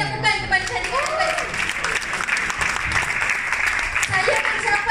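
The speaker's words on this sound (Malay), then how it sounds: "Berikan tepukan kepada syarikat." An audience claps in sustained applause that fills the whole stretch, with a person's voice faintly audible beneath it.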